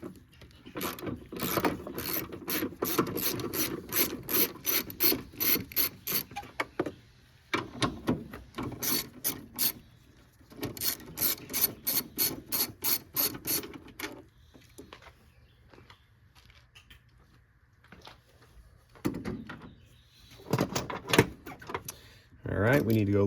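A ratchet fitted with a 12mm deep socket loosens valve cover bolts on a Toyota 3.4L 5VZ-FE V6, making rapid bursts of close, dry clicking that start, pause and resume, with someone talking quietly between runs.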